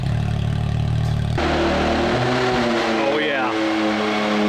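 A nitrous-powered Can-Am X3 engine idles with a low burble, then settles into a different steady tone. The sound is loud and close, and a voice speaks briefly over it.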